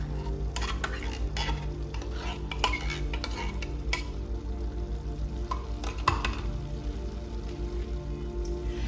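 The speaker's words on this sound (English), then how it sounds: "So I'm getting ready to add the cream of chicken with herb." Cream of chicken with herb is stirred into ground turkey in a pan, steady scraping and sizzling with scattered utensil clicks against the pan, close and continuous.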